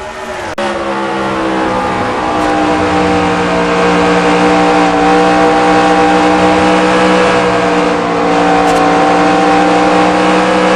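A stock car's engine in NASCAR Racing 2003 at Lowe's Motor Speedway roars loud and steady at high revs, a continuous droning whine with no break and no talk over it.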